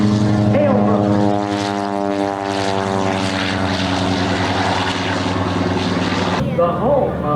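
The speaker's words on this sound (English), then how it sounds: "SB2C, radial engine, flight deck qualified, tail rotor." A Curtiss SB2C Helldiver with a 1,490-horsepower radial engine flies past at an airshow in Frederick, Maryland, a loud, steady propeller drone with rising and falling harmonics that fades slightly near the end.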